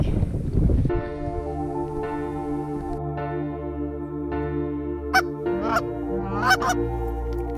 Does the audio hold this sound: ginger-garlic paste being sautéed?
no